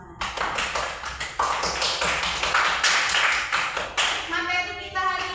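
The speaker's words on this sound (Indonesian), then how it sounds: "Oke, tepuk tangan untuk kita semua." A classroom of students applauds together, a burst of mixed hand claps that fades and swells over several seconds as a voice calls out near the end.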